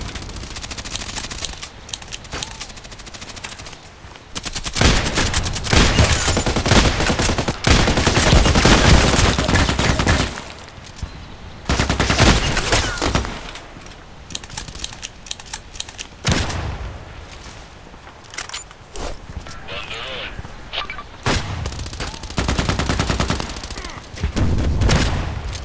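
Gunfire in the first-person shooter Contract Wars comes in repeated bursts, loud rattling volleys and single sharp shots that cluster and pause across the stretch, with quieter gaps of game ambience between them.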